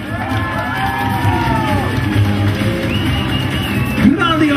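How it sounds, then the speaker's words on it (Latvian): Crowd at the Mister and Miss Jelgava 2013 pageant cheers and applauds a winner: loud, steady hubbub with rising whoops and shouts that swell again near the end. "Grandiosi vētrāni aplausi Richards Salaks!"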